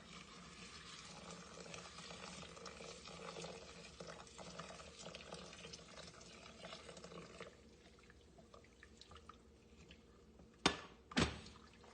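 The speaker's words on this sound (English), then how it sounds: "I'm going to pour it into my bowl of magnesium chloride." Hot water pours steadily into a bowl of magnesium chloride for several seconds, a soft continuous splashing that fades, followed by two sharp knocks.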